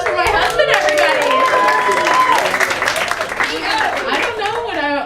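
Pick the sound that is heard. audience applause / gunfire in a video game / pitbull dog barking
audience applause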